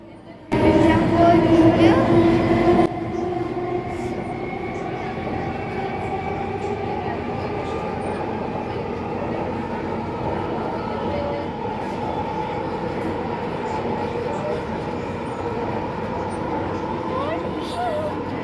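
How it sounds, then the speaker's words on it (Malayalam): Steady rumble and whine of a Kochi Metro train in motion between Aluva and Edappally, loud and continuous, with a louder stretch near the start. "കുറേ നാളായുള്ള മുത്തൂസിൻ്റെ ഒരു ആഗ്രഹമായിരുന്നു മെട്രോയിൽ കയറാന്നുള്ളത്"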